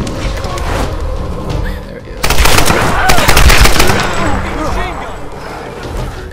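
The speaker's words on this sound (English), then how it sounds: "I do have a machine gun." Machine-gun fire in the Tomb Raider video game: dense, continuous bursts of automatic shots with thuds, running loud for several seconds, with a person's voice mixed in.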